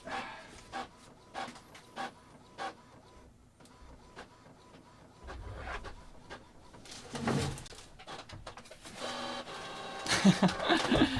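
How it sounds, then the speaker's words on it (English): A printer printing double-sided with a book blocking its front, giving irregular mechanical clicks, thumps and whirs that build into louder, busier rattling toward the end, with faint bird-like sounds in the background. "I had a book in front of the printer, and it totally messed up the double-sided printing."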